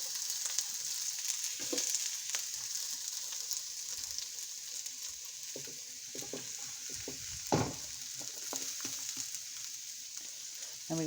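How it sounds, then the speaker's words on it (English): Shrimp and onions sizzle in a hot pan for shrimp fried rice, a steady bright hiss punctuated by occasional stirring clinks and scrapes, close and fairly loud with no talking. "We're gonna go ahead and drop in our shrimp."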